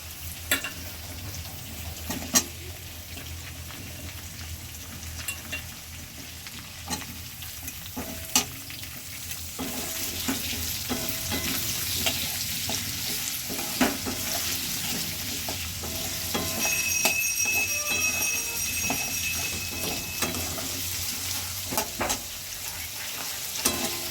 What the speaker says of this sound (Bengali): এই যেটা ভেজে নিচ্ছি ভালো করে লাল লাল করে আদা রসুন ভেজে নিচ্ছি